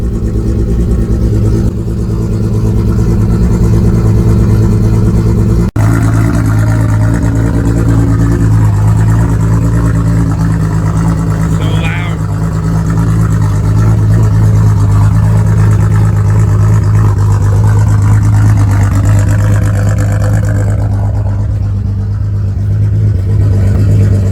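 Subaru car engine runs steadily on a test drive after a new axle fitted, a loud continuous drone and rumble from inside the car, with a gentle swell in revs partway through.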